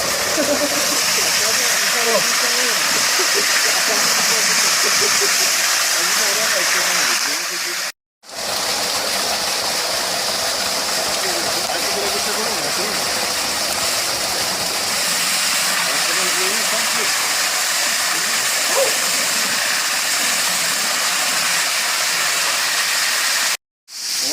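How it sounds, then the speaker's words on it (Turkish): Roaring rush of a large waterfall about 30 metres high on Gökçeada island, a steady broadband gush that fills the scene continuously apart from two brief cuts, with voices faintly underneath. "Bu şelale bir 30 metre var herhalde rahat."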